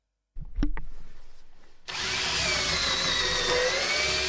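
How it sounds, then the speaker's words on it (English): Drill boring into wood on a workbench: a few sharp knocks and a spin-up, then a loud, steady grinding whine with rising tonal streaks as the bit bites into the wood. "This drilling a piece of wood's not bad."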